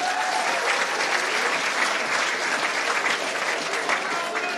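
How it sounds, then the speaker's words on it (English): A stadium crowd at a national senior track and field championship in Santry roars and applauds steadily as athletes are welcomed, a dense, loud wash of clapping and cheering that holds throughout. "do expect quite the roar in a second for the likes of Rashida and Charlene as they're welcomed here by the Santry crowd"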